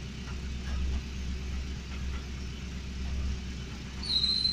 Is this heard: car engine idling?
yes